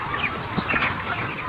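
A broiler hen on a poultry farm gives a few short, close clucks while being caught, with some rustling and faint background noise.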